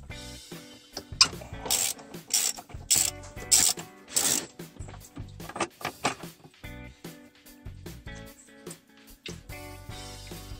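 A ratchet undoing the throttle body bolts on a Toyota Echo, giving close, loud bursts of rapid clicking with short pauses between strokes and metallic tool contact, with no voices.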